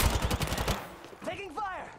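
Rapid automatic gunfire bursts in Apex Legends, a fast stuttering volley that fills the first part, then gives way to electronic chirping game tones.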